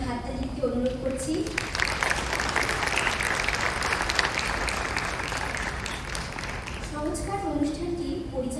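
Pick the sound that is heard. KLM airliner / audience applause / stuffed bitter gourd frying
audience applause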